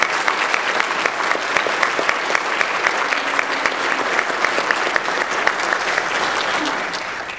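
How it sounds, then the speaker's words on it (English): A school audience at a Christian school's Veterans Day program gives a round of applause for Mrs. Brown, sustained even clapping from a full room that continues for seven seconds with faint background murmur. "let's give Mrs. Brown a round of applause"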